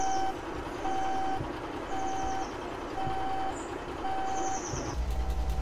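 A reversing truck in the driving game Alaskan Road Truckers sounds steady, evenly spaced beeps over a low idling engine rumble, with a faint hiss near the end.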